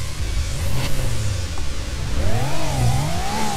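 A Porsche engine revs in the racing game Need for Speed Porsche, its rising and falling engine tone swelling and dipping in pitch, clear and close, over a low rumbling bed.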